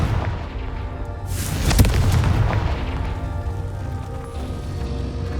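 A Confringo fire spell in Hogwarts Legacy bursts into a booming explosion partway through, its rumble swelling out of the steady ambient game soundscape and then fading back into the background.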